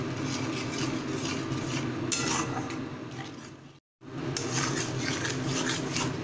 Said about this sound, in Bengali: মশলাটাকে ভালোভাবে কষিয়ে নিচ্ছি।